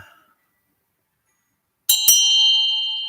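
Small metal bell, likely a Buddhist ritual bell, struck twice in quick succession after near silence, then left to ring with a bright, sustained shimmering tone that slowly fades.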